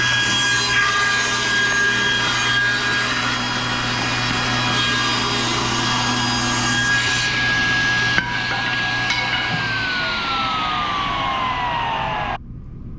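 A woodworking machine jointing a board edge against the fence gives a loud, steady cutting roar with a high whine, then spins down with a falling pitch at the end.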